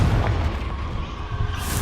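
Confringo blasting spell going off in Hogwarts Legacy, a dense rumbling boom with heavy low-end energy that rolls steadily through the whole stretch, loud and sustained rather than a single crack.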